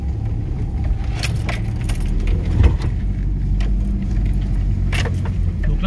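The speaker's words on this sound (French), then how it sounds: "j'ai la première dedans, je tiens mon volant" A 4x4 descends a slope in first gear, its low engine drone steady and close throughout, with clinks and jangling knocks from the cabin or suspension as it rolls over rough ground.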